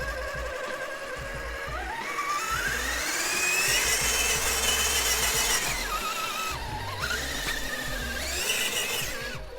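An Axial SCX6 Honcho RC rock crawler's electric motor whines and strains, pitch rising and falling with loud gear squeal, sustained and close, with a brief dip in the middle.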